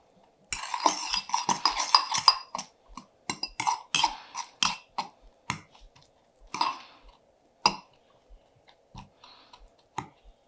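A fork pokes into chunks of freeze-dried guacamole, giving a dense run of crisp crunches and clicks at first, then sparser sharp taps, close and dry with no talking.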